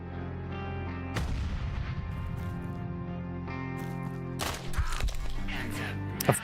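A grenade blast in the turn-based sci-fi game Quasimorph, a broad explosive burst at about one second with a long rumbling tail, then a second crackling burst near four and a half seconds, over a steady game music bed.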